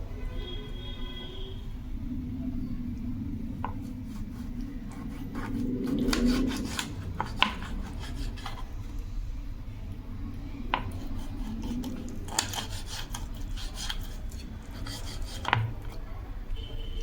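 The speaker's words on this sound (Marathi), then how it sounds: "तर कट करून घेऊया आपण।" A kitchen knife cuts through mackerel on a board in a home kitchen, giving soft rubbing, scraping strokes and occasional sharp taps against the board, close and moderate in level with no talk.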